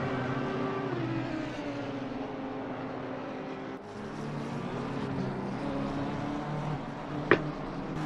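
Racing cars in the game Assetto Corsa Competizione at Kyalami, including a Honda and a McLaren, steady engine drone with rising and falling harmonic whine and a brief sharp click near the end.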